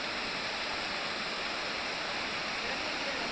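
Cachoeira do Tio França waterfall on a rainy day gives a steady, even broadband rush of falling water, constant and moderately distant with no voices.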